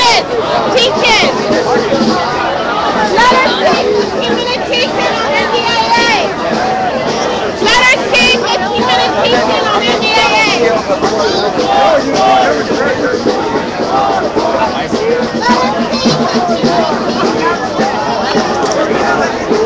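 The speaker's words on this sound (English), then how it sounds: "There's at least a couple thousand activists down here in Washington Square Park" A crowd of a couple thousand activists gathered in Washington Square Park, New York, fills the air with a dense, constant babble of many voices nearby, with scattered louder calls and no single voice standing out.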